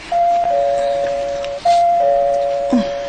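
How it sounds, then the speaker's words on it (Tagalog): A two-tone electronic doorbell chime rings twice in an apartment, each steady ding holding for over a second before the second press, clear and fairly loud with faint background noise. "May nag-doorbell."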